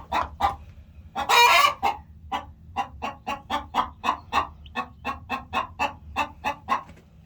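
Chickens cluck in a steady run of short, rhythmic calls close by, with one louder squawking burst near the start and no talking.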